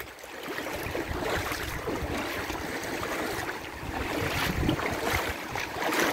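Sea surf rolls in on Golubitskaya beach early in the morning, a steady broadband wash of breaking waves with wind buffeting the microphone, swelling slightly louder toward the end, with no speech.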